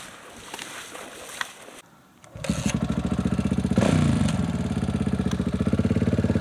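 A motorcycle for sand riding at Little Desert National Park fires up after a short quiet spell and runs close by, its engine throbbing in a fast, steady rhythm with a brief rev in the middle.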